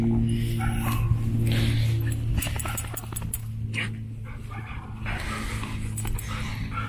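Puppies yip, whimper and bark in short playful bursts close by, scattered over a low steady hum, while people talk nearby.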